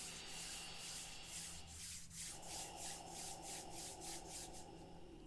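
Palms rubbing together during a quiet yoga cool-down, a soft steady swishing friction that runs for several seconds, close and gentle, with no talking.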